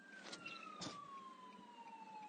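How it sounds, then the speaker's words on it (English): An emergency vehicle siren passes outside, a faint wailing tone that slowly falls in pitch, heard distantly through a room with a few soft knocks. "there's a siren."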